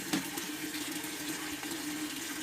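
Water poured from a tap over boiled cassava leaves in a basin, a steady close splashing and running for a couple of seconds, fairly quiet, with no talking.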